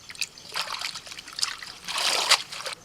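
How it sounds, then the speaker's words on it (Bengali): Tap water trickles and splashes over leafy greens being washed, a light intermittent dribble with small splatters, fairly close and alone without speech. "ভালো করে ধুতে হবে, নাহলে বালি থাকবে।"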